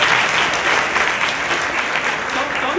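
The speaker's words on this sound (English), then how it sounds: "Can we give her another round of applause?" A sustained round of applause for a speaker at a women's assembly, with many hands clapping in a dense, even wash that fills the room from start to finish.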